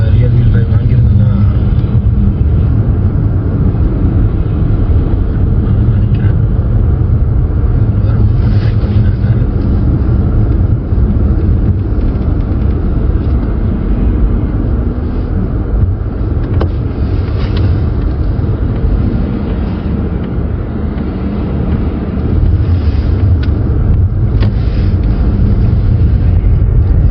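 Steady loud rumble of an all-wheel-drive car driving on a snowy winter road in Canada, continuous road and engine noise throughout with no clear change.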